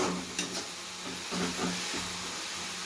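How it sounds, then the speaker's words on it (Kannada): Fenugreek greens with salt are stirred and fried in a pan, giving a steady soft sizzle and hiss with a few faint scraping stirs throughout. "ಉಪ್ಪು ಹಾಕಿ ಚೆನ್ನಾಗಿ ಮಿಕ್ಸ್ ಮಾಡ್ಕೊತಾ ಇದ್ದೀನಿ"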